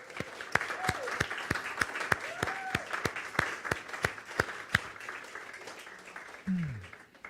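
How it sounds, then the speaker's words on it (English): A small group claps steadily at a distance, fairly faint, with a few brief voices and a short vocal sound rising near the end. "So let's give them a round of applause."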